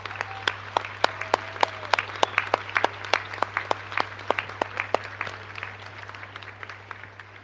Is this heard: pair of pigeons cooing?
no